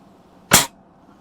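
A Daisy 120 pellet rifle fired once at a target outdoors, a single sharp, close crack that decays quickly into quiet.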